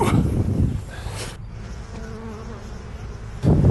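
Honeybees buzzing steadily around a hive as it is carried in for transport, with louder bursts of buzzing and handling noise at the start and end.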